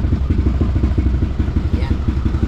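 A Yamaha NMAX V2 scooter with a bored-up 188cc engine fires up and settles into a close, loud, fast-pulsing putter that runs steadily through the whole moment.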